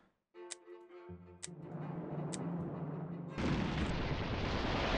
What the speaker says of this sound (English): Sounded like some crazy explosion